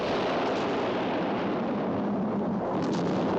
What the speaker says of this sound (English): we get a fairly lovely island explosion